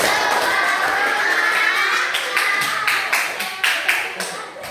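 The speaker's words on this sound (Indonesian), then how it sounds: "tepuk berkali-kali." A group of people clapping hands repeatedly during a classroom-style activity, a dense run of claps that grows into sharper, more distinct strokes toward the end, with voices mixed in underneath.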